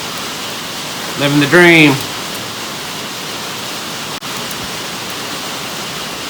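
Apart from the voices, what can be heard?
heavy rain falling outside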